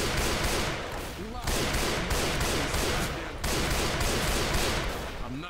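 Dense, continuous gunfire from the video game Left 4 Dead 2 fills the clip, rapid bursts layered over each other with a brief dip around the middle, with faint voices underneath.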